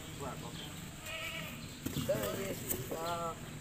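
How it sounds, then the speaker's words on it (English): Goat bleating at a beachside place in Talim, San Diego, with several wavering bleats over steady background noise, moderately close, and people talking nearby. "The goat. He won't come in."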